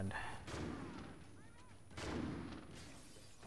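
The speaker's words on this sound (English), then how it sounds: "All I hear are longbows everywhere" Longbow sniper rifle shots ring out in a video game match: three sharp, booming blasts at irregular intervals over a low, steady background hum.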